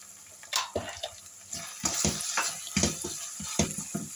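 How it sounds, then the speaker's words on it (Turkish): Half a tea glass of water poured into a cooking pot while making Turkish eggplant oturtma with minced meat: splashy, uneven liquid noises and light clatter at close range, fairly steady for several seconds, without speech. "Şöyle yarım çay bardağı su ekliyorum."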